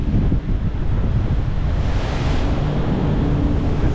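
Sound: strong wind blowing a gale on the Malta to Gozo ferry

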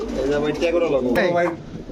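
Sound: Bombai pigeon cooing

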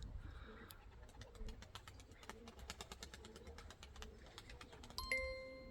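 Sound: young pigeon

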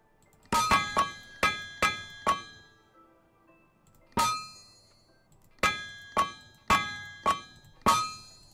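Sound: hammering iron sheets to weld them in TerraFirmaCraft video game

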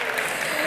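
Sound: audience applause at a literary prize ceremony

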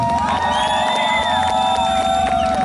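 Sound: audience applause for contestant number three

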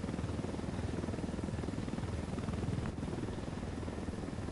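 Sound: helicopter in the video game Ghost Recon: Wildlands

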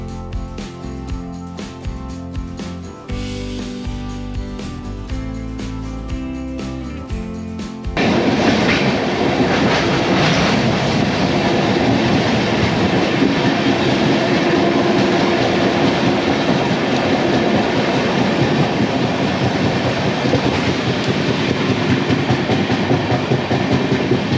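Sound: UDAY Express train running on rails, clickety-clack

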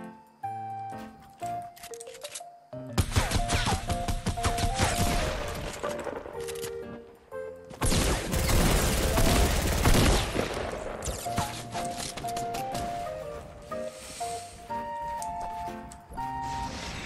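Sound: gunfire in the video game Fortnite

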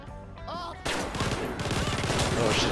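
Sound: gunshots in video game GTA V store hold-up

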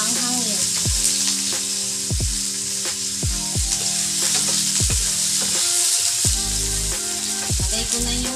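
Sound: onions and chilies frying in pan

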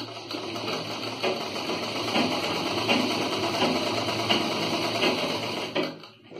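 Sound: sewing machine stitching bell sleeve fabric

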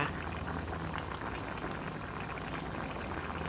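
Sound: catfish curry boiling in a pot

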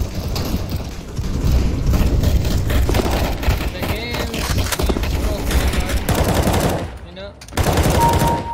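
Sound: gunshots in the video game CS:GO

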